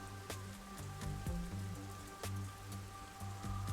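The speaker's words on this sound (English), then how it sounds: "rain just won't stop." Steady rain falls in a dense, continuous patter with scattered sharper drop hits, lasting a few seconds with no voices over it.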